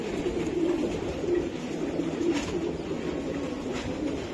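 Racing pigeons keep up a low, steady cooing at moderate distance, rolling on without pause against a faint background hum.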